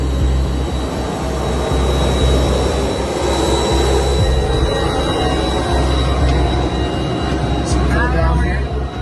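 A Gulfstream G650 private jet's engines roar loudly and steadily, a dense broadband rush with a constant high whine running throughout, heard up close.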